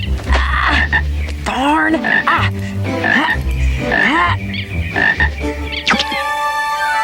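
A frog croaks loudly and repeatedly in a rhythmic series of throaty calls, with a voice briefly exclaiming between them.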